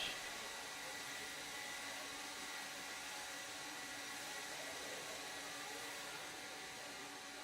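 Steady, even rush of a blower running at an indoor RC raceway, a continuous broadband hiss holding at constant level throughout.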